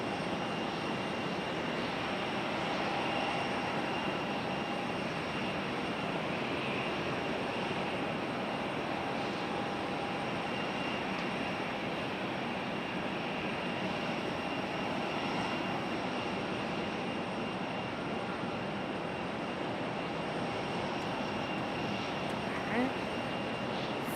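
An airliner arrives at Raleigh-Durham airport, its jet engines a continuous even roar with a faint high whine, heard from a steady distance without any talk.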